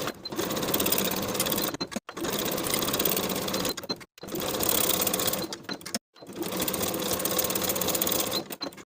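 A sewing machine sews t-shirt shoulder seams in four steady loud runs of rapid whirring, each cut off by a brief pause, close up with no talk.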